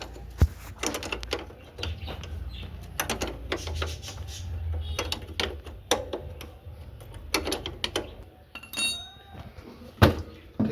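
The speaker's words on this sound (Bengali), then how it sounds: "তেরো নম্বর রিং রেঞ্জ দিয়ে হালকা টাইট" A ring spanner tightens the chain sprocket nut on a Bajaj Platina 110 motorcycle, giving sharp metallic clinks and ratcheting taps scattered irregularly over close-range workshop handling noise.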